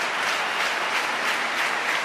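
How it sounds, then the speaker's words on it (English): Football stadium crowd during a Zlatan Ibrahimovic match, a dense continuous roar of cheering and applause at a distance, steady and unbroken throughout. "Crowd as animated as they've been at any stage during the evening."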